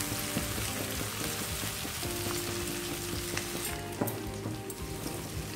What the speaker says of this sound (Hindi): प्याज और शिमला मिर्च अच्छे से भून के हम इसे ज़्यादा नहीं पकाए हैं।